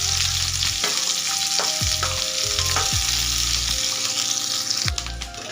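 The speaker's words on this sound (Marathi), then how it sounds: "हा तेलामध्ये ना पूर्ण कच्चेपणा जाईपर्यंत आणि कांद्याचा कलर चेंज होईपर्यंत आपल्याला तळून घ्यायचा आहे।" Sliced onion sizzles loudly in hot oil for a shevga masala bhaji, with steady frying hiss broken by several sharp stirring scrapes and clanks from a spatula against the pan.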